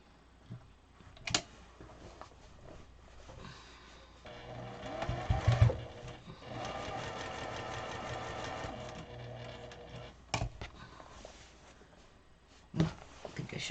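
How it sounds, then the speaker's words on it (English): Domestic sewing machine running in a sustained burst, stitching around triangle patches on an 18-inch pillow cover, with a few clicks and handling knocks before and after; no talking. "right now what I'm doing is I'm sewing around all of the little triangles boxes here"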